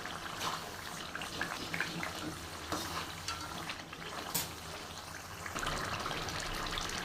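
Vegetable biryani masala with yogurt stirred in oil: a continuous close sizzle with wet scraping and stirring strokes, steady and fairly loud.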